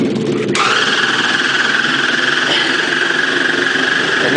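A homemade 12-coil motor generator fed 120 volts DC at 5 amps spins up after a brief start, then settles into a steady, loud whirring hum with a constant high whine, running alone without talk.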